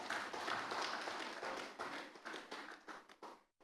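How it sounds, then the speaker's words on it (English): An audience at a conference colloquium claps in a short burst of applause that starts full and then thins out into scattered claps before fading to silence. "A round of applause, please."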